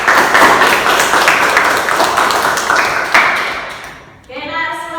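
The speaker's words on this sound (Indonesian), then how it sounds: "Beri tepuk tangan dulu." Students in a classroom clap together loudly and close by for several seconds, the clapping fading out as a voice begins speaking.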